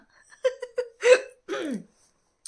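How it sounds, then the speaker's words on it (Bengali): A child hiccups repeatedly, with sharp voiced catches in an uneven rhythm, close and fairly loud, with short silent gaps between them and no talk. "একের পর এক কাশি হিচকি আরও কত কি"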